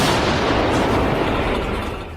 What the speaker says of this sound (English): The cannon fires a shell and the artillerymen lift another one.